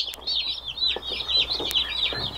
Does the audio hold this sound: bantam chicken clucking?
yes